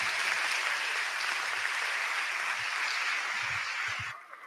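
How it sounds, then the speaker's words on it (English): Audience applauding after a talk at a 2022 MEX talks event, dense steady clapping that stays level and then fades out near the end. "And another round of applause for Luis Valdez."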